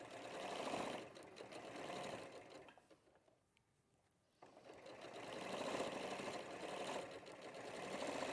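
A sewing machine stitches a quilt block in steady runs, with a brief pause near the middle before the whirring picks up again and carries on close and even.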